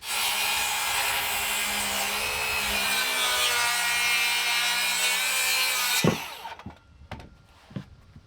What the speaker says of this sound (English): I marked lines where the ends of the collar tie overlap the rafters and cut them off with the circular saw